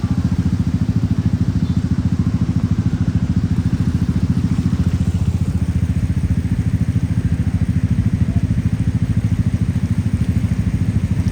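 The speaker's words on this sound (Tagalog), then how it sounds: "Dumadaan ang sasakyan ngayon sa Espanya Boulevard oh." Steady low engine rumble with a continuous wash of splashing water as vehicles drive through flooded España Boulevard in Manila, with rain hiss throughout.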